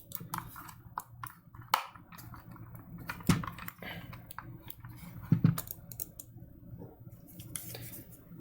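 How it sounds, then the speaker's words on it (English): Scattered small plastic clicks and snaps, some sharper than others, as the hard plastic edges of a Rana Tadpole case press and click into place up close. "You can kind of hear the edges clicking into place there."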